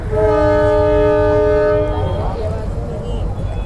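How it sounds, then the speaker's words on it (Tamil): A loud, sustained train horn blares for about two seconds over rumbling rail noise in Rajasthan, India, then cuts off leaving the heavy rumble. "தூரத்தில் ஹார்ன் சத்தம் கேட்குது"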